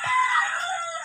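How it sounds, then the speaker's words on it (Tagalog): A single Texas gamefowl rooster crows loudly and close by, one sustained cock-a-doodle-doo lasting about a second. "itong manok naman, Texas to"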